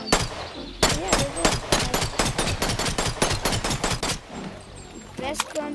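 Automatic gunfire from a gun in the VR game BONELAB: a long, rapid string of loud, sharp shots that halts briefly, then resumes for a short final burst.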